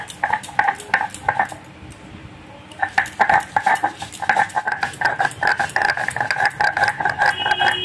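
Green chili and salt are ground on a traditional Bengali stone slab, producing repeated scraping, clinking strokes in rhythmic bursts, with a short pause partway through.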